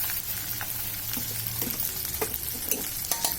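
A spice mixture stirred in a pan, with soft sizzling and intermittent scraping taps of the spoon, fairly close and moderately quiet.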